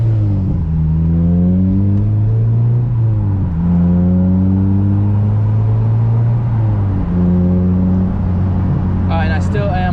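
A 2013–2015 Honda Civic Si engine revs up through the gears from inside the cabin, loud rising drones cut by several shifts, with the pitch climbing again after each one.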